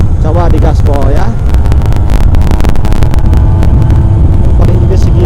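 A Qingqi 50cc automatic scooter engine is revved, giving a loud steady buzzing drone with a brief rising whine at the start, close to the microphone with wind noise.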